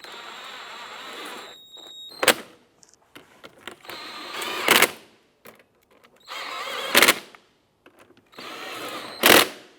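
A power tool driving and snugging down bumper cover bolts on a Ford Five Hundred, several short whirring bursts that each rise to a sharp tightening peak, separated by quiet pauses.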